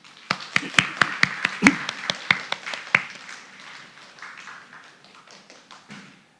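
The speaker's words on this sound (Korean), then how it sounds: "우리 옆에 있는 순원분들도 한번 박수로 격려하겠습니다" A church congregation claps in encouragement, starting with sharp distinct claps in a quick rhythm that thin out and soften into scattered, fading clapping.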